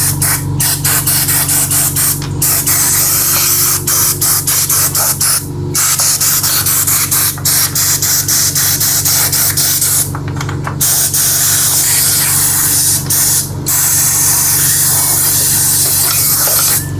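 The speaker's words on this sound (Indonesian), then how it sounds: "Setelah itu kita semprot biar lebih afdol." A loud, continuous aerosol spray hisses close up onto a motorcycle part, broken by brief pauses as the nozzle is released and pressed again.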